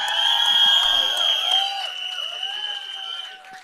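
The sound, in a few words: audience applause and cheering for Paresh Rawal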